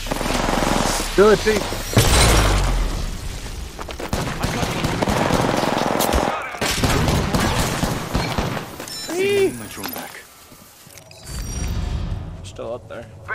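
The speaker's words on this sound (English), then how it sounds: "They're shooting at me!" Rapid gunfire bursts from an Apex Legends firefight crackle loudly through most of the stretch, with thuds and mechanical clicks mixed in, while players talk over the shooting.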